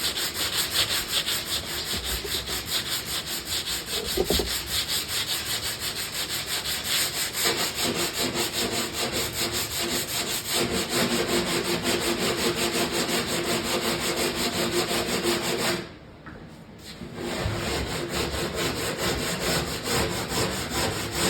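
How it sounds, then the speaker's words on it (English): Block sander with 80-grit paper smoothing the edges of a Galaxian arcade cabinet, a loud continuous rasping scrub that runs steadily, with one brief pause near the end. "I'm taking a block sander here with some 80 grit, and I'm just gonna sand these edges down just to smooth them out."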